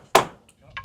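Two sharp hammer taps on a block at a rural hut build, close and distinct, separated by a brief quiet gap with a faint click between them.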